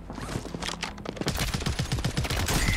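Rapid automatic gunfire in Call of Duty on Rebirth Island, a dense fast burst of close shots rattling for a couple of seconds.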